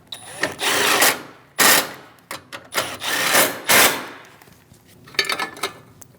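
Tightening two 10mm bolts on the intercooler of a 2016-2025 Chevrolet Malibu 1.5L L4 with a ratchet, bursts of rapid metallic clicking separated by short pauses, close and loud.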